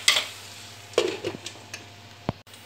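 Onions sauté in a pan for Kerala-style chicken thoran, giving a low sizzle broken by a few short scrapes and taps of stirring, close by and fairly quiet, with no talking.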